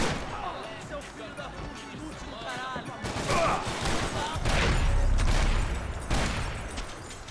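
Bursts of gunfire in the video game Max Payne 3 start after a quieter stretch and build into dense, loud volleys, with voices underneath.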